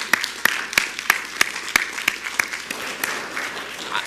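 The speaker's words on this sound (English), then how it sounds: "And they deserve an applause for that." A city council audience applauds steadily for a few seconds, sharp individual claps standing out above a dense patter of hands.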